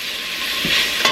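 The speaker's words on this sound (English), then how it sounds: "Go ahead and throw your onions in." Chopped onions hit a hot frying pan for beef tips with mushrooms, producing a steady, close hiss of frying with a couple of soft thumps as pieces land and get stirred.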